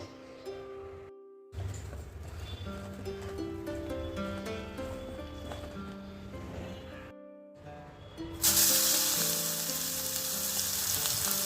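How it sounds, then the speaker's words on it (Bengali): Vegetables frying in oil in a kadai wok, a steady sizzle under background music, broken by two brief silences and jumping to a much louder, brighter hiss near the end. "এক এক করে সবজিগুলো একটু ভেজে নেবো"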